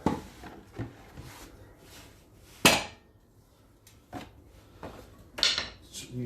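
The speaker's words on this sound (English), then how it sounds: "use the rubber hammer." A rubber hammer taps on a Land Rover Series swivel housing during a swivel ball rebuild, giving a few scattered, sharp knocks several seconds apart, with two louder strikes standing out against a quiet workshop.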